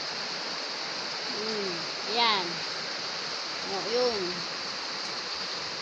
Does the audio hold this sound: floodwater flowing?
yes